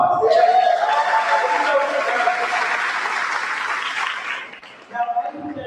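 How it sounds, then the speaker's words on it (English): Audience applause at a middle school promotion ceremony: dense, steady clapping from a large crowd that fills most of the moment, then fades as a voice begins speaking near the end. "Give them a round of applause."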